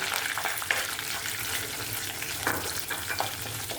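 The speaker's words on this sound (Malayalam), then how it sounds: "ഇപ്പം ഞാൻ ഒരു കഷ്ണത്തോളം ഇഞ്ചി ചതച്ച് വെച്ചിട്ടുണ്ട്, അതിട്ട് കൊടുക്കാം" Crushed ginger frying in hot oil with fenugreek and curry leaves for a fish curry, a constant close crackling sizzle with small pops and occasional stirring scrapes, no voices.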